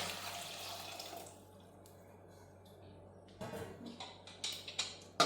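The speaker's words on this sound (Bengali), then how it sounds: "এখন এর ভিতরে দিয়ে দেব জল।" Water poured into a pressure cooker holding potatoes and eggs, a hissing rush at first, then quiet, followed by a few sharper splashes and clinks toward the end, close and fairly faint.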